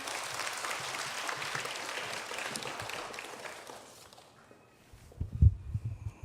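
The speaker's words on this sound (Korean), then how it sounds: "박수로 환영해 주세요." A church congregation applauds to welcome a pastor to the pulpit, a broad soft wash of clapping that fades out after a few seconds, followed by low thumps and faint handling sounds.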